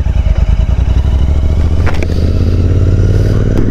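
A motorcycle rides through Spiti with a close, loud engine that chugs in pulses at first and then becomes a steady throbbing drone, with a faint clatter partway through.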